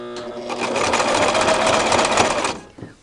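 A Brother LX3014 domestic zigzag sewing machine runs steadily, stitching super bulky knit strands, with a close, loud mechanical whir for about two and a half seconds before stopping, followed by a small click.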